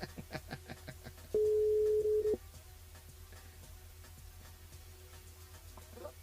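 A single long, steady ring tone sounds while calling a mobile phone during a live radio broadcast, preceded by soft ticking clicks and followed by quiet line hiss.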